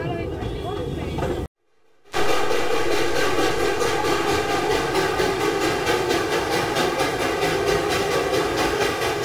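A small train on the Darjeeling mountain railway runs near the Batasia Loop toward Ghum, a steady rumbling, clattering passage with a regular rhythmic beat. The sound continues loud and close after a brief dropout, with no talk.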